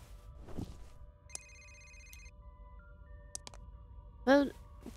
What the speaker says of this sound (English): I hear a phone, but I don't see your phone.